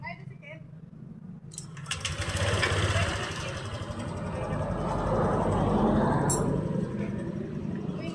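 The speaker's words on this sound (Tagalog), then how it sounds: "Ngayon pinaandar ko, umandar na." A Honda Click motor scooter engine starts up after a relay check and keeps running at a steady, close idle, with a brief rev swell, while a person talks over it.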